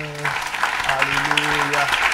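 A church congregation applauds and cheers together during a French-language worship service, dense clapping with raised voices and sung or shouted tones over it, loud and close, lasting a couple of seconds.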